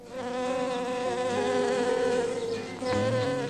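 A swarm of honeybees clustered on a tree branch, buzzing loudly and steadily with a dense, wavering drone that swells slightly near the end; no voices.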